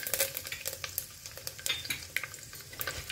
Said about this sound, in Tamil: கடுகும் பொரியிறது வெந்தியமும் நல்லா செவந்து நல்ல வாசனை வர ஆரம்பிச்சிடுத்து